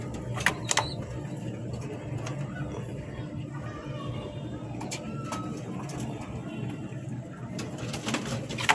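King pigeons coo softly inside a cage, low repeated murmuring calls close by amid faint clattering and background activity.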